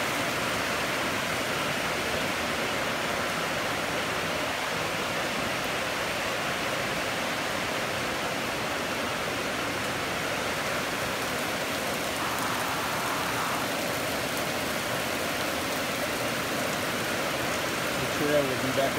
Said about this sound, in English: Yeah, pretty heavily it's raining.